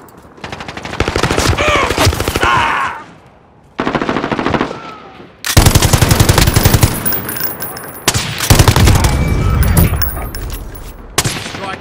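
Loud, sustained machine gun fire in a military video game, long rapid bursts broken by short pauses, with dense overlapping gunfire and explosive booms.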